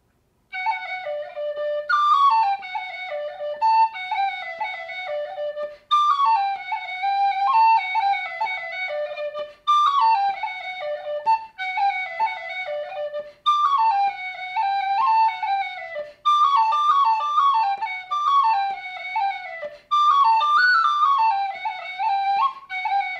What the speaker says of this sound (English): today I'm going to be playing the ruling wave set on the tin whistle